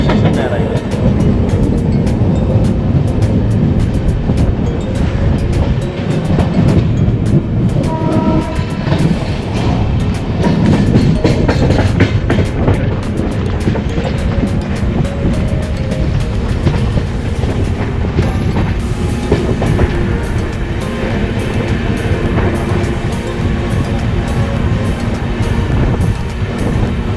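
Rajdhani Express train rolling into Kazipet railway station, a steady loud rumble of wheels and carriages with rhythmic clickety-clack and wind buffeting the microphone throughout, voices faintly present.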